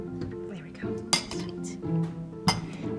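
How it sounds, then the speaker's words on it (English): A spoon stirs pumpkin cheesecake batter swirled with peanut butter in a bowl, giving soft scraping and two sharp metallic clinks against the bowl's side, close and fairly quiet. "Just gonna give this a nice little stir."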